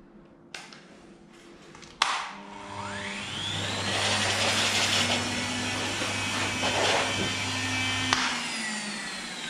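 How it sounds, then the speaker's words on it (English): Electric dog clippers fitted with a 7 blade shave a Cocker Spaniel. After a couple of sharp clicks, a steady, close motor buzz starts and holds evenly through most of the clip. "Now I'm going to continue shaving her with the 7 blade"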